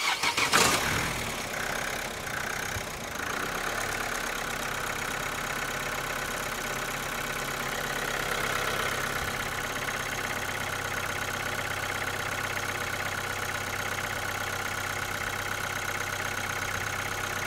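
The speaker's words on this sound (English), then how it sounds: "You want to start the car, my man?" A 2013 Vauxhall Astra J 1.7 CDTi diesel with a fuel pressure fault cranks and fires, then settles into a steady, even idle that hums on unchanged, heard close and alone.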